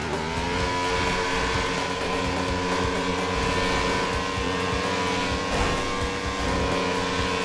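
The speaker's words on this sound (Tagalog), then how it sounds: "Galit na makina, no?" A loud engine drones steadily with a rising, throbbing tone, close by, as if revving under load; no talking is heard.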